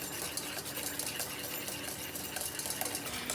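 A spoon stirs cauliflower faux potato salad in a bowl, making a continuous soft scraping and clinking at close range, quiet and steady, with no talking.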